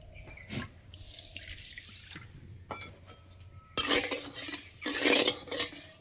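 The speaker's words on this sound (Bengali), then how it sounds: "কড়াই দেবো এই বাটির হাফ বাটি চিনি, দেবো এক বাটি জল" Water runs from a tap and pours into a kadai holding sugar for syrup, with a few clinks of a bowl and utensils, then a louder splashing pour near the end.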